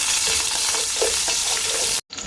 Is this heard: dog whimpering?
no